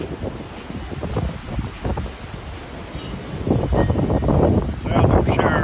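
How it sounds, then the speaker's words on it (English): Big wind gusts buffet a treehouse during a tornado, a loud rumbling roar that surges and builds toward the end with rough buffeting on the microphone. "I'm gonna say we got some pretty big gusts right here right now."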